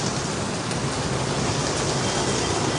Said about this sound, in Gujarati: દ્વારકાની અંદર બારે મેઘ ખાંગા છે અને જે રીતના વરસતો વરસાદ છે